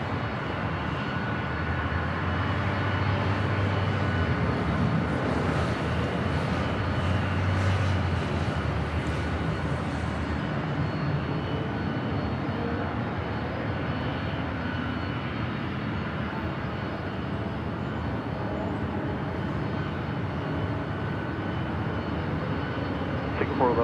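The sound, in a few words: airliner jet at LAX airport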